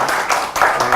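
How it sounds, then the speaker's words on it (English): A brief burst of applause at a Central Information Commission event on electoral democracy: a second of steady, fairly loud clapping from the assembled audience. "May I request all of you to give them a good round of applause."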